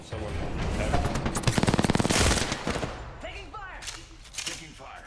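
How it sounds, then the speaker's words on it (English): Gunfire in a shooter video game: a rapid burst of automatic fire amid rumbling game noise, followed by quieter scattered shots and effects. "Taking fire."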